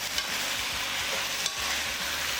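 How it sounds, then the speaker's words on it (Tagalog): Chicken and ginger slices get tossed in a hot pan, giving a loud, dense sizzle with a couple of soft knocks from the utensil. "Give her a little toss."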